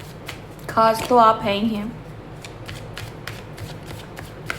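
Tarot cards riffle and slide in quick crisp bursts, close by, while someone speaks briefly over the early part before the shuffling continues alone.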